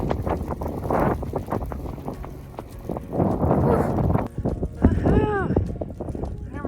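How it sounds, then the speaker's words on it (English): Strong wind near a snowy mountain top buffets the microphone in heavy, roaring gusts, with a person talking over it and footsteps crunching in snow underneath. "it's very snowy right now and very windy because we're coming to the top"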